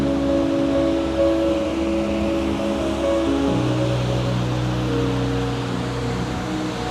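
Waterfalls and a river rush through Taroko Gorge in Taiwan, with fast current flowing over polished rocks: a steady, dense roar of moving water that holds the same level throughout.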